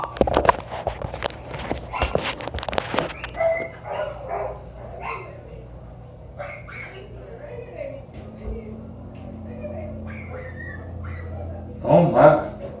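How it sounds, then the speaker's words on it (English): A dog barks at the vet's office, loud sharp barks crowding the opening seconds, then quieter room sounds with people talking and a brief louder burst near the end. "That's a barking fool right there."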